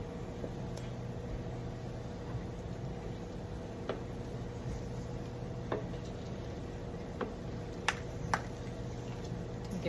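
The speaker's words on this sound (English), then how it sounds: "You can hear them popping open." Cranberries cooking down for cranberry sauce pop open one after another, with scattered faint sharp snaps over a low, steady simmering hiss.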